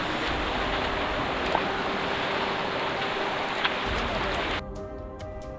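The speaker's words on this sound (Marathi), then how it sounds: "नुसता पाऊस" Steady heavy monsoon rain on a jungle trek hisses over everything for several seconds, then the downpour drops away abruptly to a quieter background near the end.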